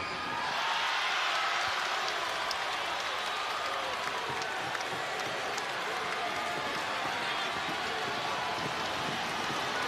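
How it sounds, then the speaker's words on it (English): A basketball arena crowd roars steadily during a Western Kentucky versus Charlotte college game, a dense, loud wash of cheering and noise holding high for the whole stretch with no pauses. "Crowd getting loud."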